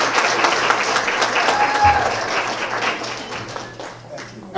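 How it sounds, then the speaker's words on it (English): Guests at a formal 2016 gala dinner held by a Muslim voters' organization break into loud, close applause that holds steady and then eases slightly, with some voices mixed in. "Let's give another round of applause"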